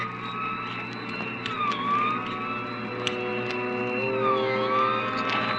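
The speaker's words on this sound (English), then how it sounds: "We both heard the siren then." A wailing siren in a radio noir drama, its pitch sweeping up and down steadily over a constant rumble, loud and continuous with no voices.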